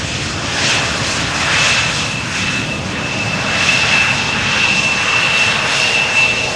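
An airliner arriving to land on runway 06 at Amsterdam Schiphol Airport roars loudly overhead, a steady sustained engine rumble and whine that swells slightly as it passes.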